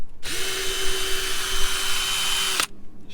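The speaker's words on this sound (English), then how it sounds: "Just using the drill to do that." A power drill removes the four screws holding a Honda outboard throttle box, running in one steady high whine for about two and a half seconds with a sharp start and stop, close and loud with no talking.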